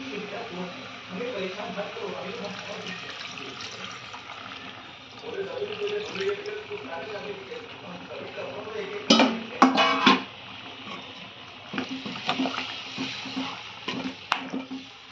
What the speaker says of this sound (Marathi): मी या वाटणाचं पाणी यामध्ये टाकत आहे